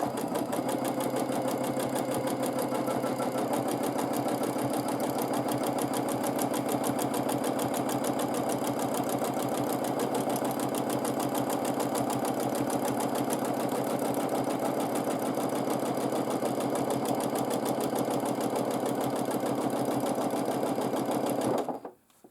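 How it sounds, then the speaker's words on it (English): A sewing machine runs steadily at speed during free motion quilting, a fast, even mechanical hum and rattle that stays loud and close for about twenty seconds and then stops abruptly. "I will let first my machine, and now I will move."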